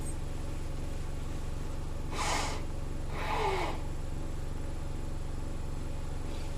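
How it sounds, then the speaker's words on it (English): Two short, breathy nose blows close by, one after the other, over a steady background hum. "I'm going to blow my nose so there's no mucus in my nose"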